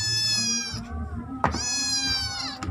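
A cat near a rice cooker meows twice, long, drawn-out, high and close, with low background hum.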